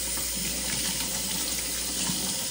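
Hot water runs steadily from a tap into a sink, a continuous close hiss and splash with no pauses.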